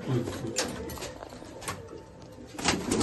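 A favourite fancy pigeon coos at a backyard loft, several soft calls spread across the moment with faint knocks and scuffs nearby.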